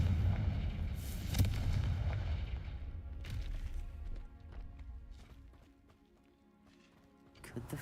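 A Confringo blasting spell goes off in Hogwarts Legacy in a snowy winter setting, a loud booming explosion that rolls and fades over several seconds, followed by scattered clattering debris and quieter game sounds.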